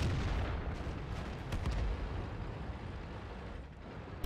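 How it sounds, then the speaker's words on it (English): Tank cannons and artillery in World of Tanks, on the Ruinberg map with an Object 140, form a dense, continuous battle roar with heavy low rumble and repeated booming shots, loud and sustained throughout. "they're getting fired on by way too many tanks"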